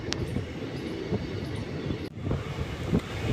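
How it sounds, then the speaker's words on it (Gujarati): A passenger train runs along the line just after departing Khijadiya Junction on the Dhola to Veraval route, a continuous low rumble of wheels and carriage with wind buffeting, one brief dip partway through, no voices. "આપણી ટ્રેન ખેજડીયા જંકશનથી પ્રસ્થાન કરી ચૂકી છે"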